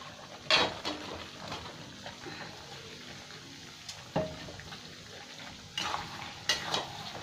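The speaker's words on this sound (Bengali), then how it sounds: "এবার আমি পনিরটাও দিয়ে দেবো। এখানে পনিরও তুলে দিলাম।" Paneer pieces for matar paneer frying in a pan while being stirred, a steady soft sizzle broken by a few louder scraping clatters of the spoon against the pan, close and without talk.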